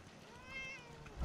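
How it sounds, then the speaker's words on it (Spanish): A cat meows in the video game Fallout 4 at the Covenant settlement, one short, faint, rising meow over soft background ambience. "¡Ay, un gatete!"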